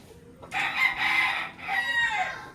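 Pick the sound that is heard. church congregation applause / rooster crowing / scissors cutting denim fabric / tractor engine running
rooster crowing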